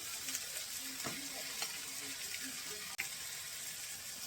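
Potatoes cook in a pan for an after-Thanksgiving casserole, a faint, steady sizzle with a few light scrapes and knocks of stirring in a quiet kitchen, no one talking.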